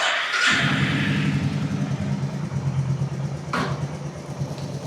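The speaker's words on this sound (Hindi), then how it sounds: "ये देखिए, ये साउंड जो आ रही है, ड्राई चेन रन हो रही है।" Royal Enfield Meteor motorcycle started and idling at home with a dry, unlubricated chain running, a close, steady engine thrum with a light mechanical rattle throughout and a brief sharper click near the end.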